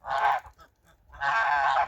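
A goose gives two loud, close honks separated by a short pause.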